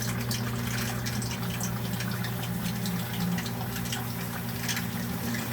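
A Pro Series PS-C33 sump pump in a basement pit draws out water from the drain tile, giving a steady, continuous hum with a churning water wash throughout.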